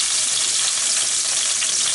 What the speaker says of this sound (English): we will brown the rest of our meat